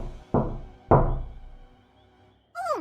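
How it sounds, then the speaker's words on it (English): Two solid knocks on a door, about half a second apart, loud and close, each decaying quickly, followed by a short high tonal sound. "That's when I heard knocking on the door."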